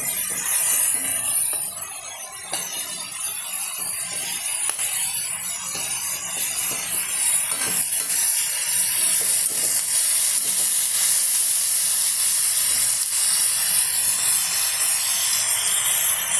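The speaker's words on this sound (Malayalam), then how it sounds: "നമുക്ക് ഇതിലേക്ക് നമ്മുടെ അരിഞ്ഞ് വെച്ച കോവയ്ക്ക് ഇടാൻ പോവാണ്." Chopped ivy gourd tipped into a hot pan for a roast: a loud, steady hiss of sizzling oil that holds for the whole stretch with little change, close by and with no talking.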